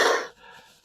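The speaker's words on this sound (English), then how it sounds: "Excuse me, still got a little cough there." A senior man gives one short, dry cough close to the microphone, followed by a brief breathy exhale.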